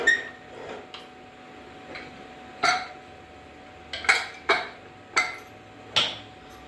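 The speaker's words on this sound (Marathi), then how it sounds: "आता याला झाकण लावू आपण" Lid being fitted onto a cooking pot, pressure-cooker style: a series of sharp metallic clanks and taps, about eight close knocks spaced irregularly, with faint scraping between them.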